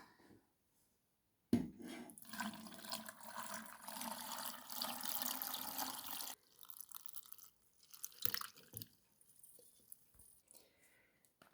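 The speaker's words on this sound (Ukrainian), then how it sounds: "Отак виклали помідори і заливаємо розсолом." Brine poured over tomatoes packed for pickling, a steady splashing gush lasting about five seconds, close by, followed by scattered light drips and clinks.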